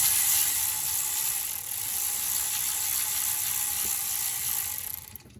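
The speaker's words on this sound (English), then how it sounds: "It looks like I can get to them with the cordless, so let's try that" A cordless impact tool or ratchet whirs steadily and loudly at close range for about five seconds while loosening tight alternator bolts on a 2008 Hyundai Veracruz V6, then cuts off abruptly.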